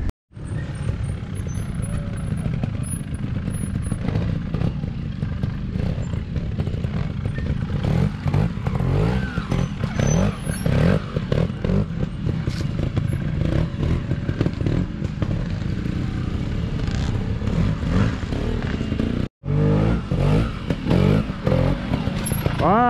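Racing motorcycles on a circuit at a track day, a continuous loud engine roar with rising and falling revs and gear changes, one brief dropout near the end.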